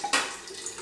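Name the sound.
pouring crab bisque soup into a blender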